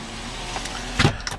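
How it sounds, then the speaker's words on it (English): The one-touch front power window motor of a 2008 Chevrolet Suburban LT whirs inside the cabin, a steady low hum ending in a soft thump as the glass reaches its stop. "The front windows are one touch, meaning you don't have to hold the switch for it to go down"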